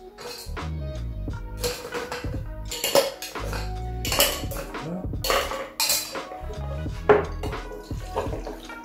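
Ice cubes clatter and clink into a metal cocktail shaker for a mezcal drink, a burst of irregular hard knocks and rattles, close and loud, with no talk.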